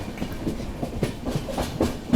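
The Hampi Express rolls along, heard from inside a sleeper-class coach on the Hubballi to Mysuru route, with a rhythmic clickety-clack of wheels over rail joints above a close, steady rumble.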